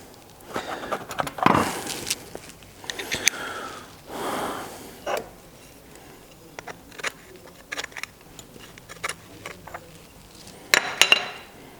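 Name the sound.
scraping rubbish out of a motorcycle carburettor float bowl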